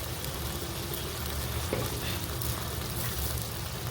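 Ginger paste sizzles and fries in a clay pot for mutton and chicken biryani, a steady soft crackling hiss that holds evenly throughout with no voices.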